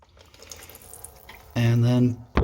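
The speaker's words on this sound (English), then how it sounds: "So make sure you tilt it because oil will come out." Motor oil draining out of a just-removed oil filter on a Ford F-150 Raptor during an oil change, a brief loud gurgling pour lasting about half a second after quiet shop background, followed by a short knock.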